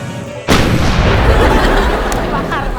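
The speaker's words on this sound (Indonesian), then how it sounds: "Kok bisa sih meledak sendiri?" A sudden loud boom cuts in after brief quiet and leaves a long, roaring noisy tail that fills the rest of the moment.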